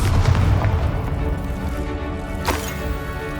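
A fiery Confringo spell explodes in the Hogwarts Legacy video game, a deep, rumbling boom that rolls on with a heavy low roar and a sharper burst near the end, loud and alone.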